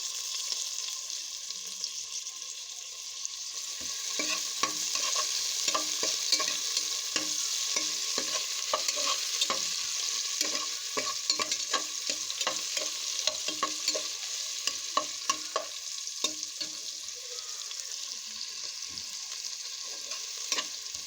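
Garlic and onion fry in hot oil in a pan, a steady sizzle running throughout with frequent clicks and scrapes of a stirring spoon, fairly close and with no talking.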